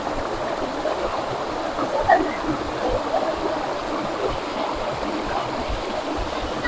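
Water from a Philippine waterfall rushes in a steady, broadband roar. The sound is continuous and fairly loud, with no clear talk over it.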